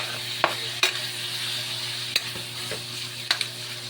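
Ingredients for a mung bean dish sautéing in a pan give a steady close sizzle, broken by a few sharp clinks of a utensil stirring against the pan.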